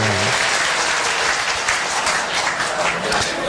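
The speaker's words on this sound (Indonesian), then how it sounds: "Tepuk tangan." An audience bursts into dense, steady applause at a spoken talk, the loud, close clapping filling the whole stretch without pause, with only a faint voice briefly at the start.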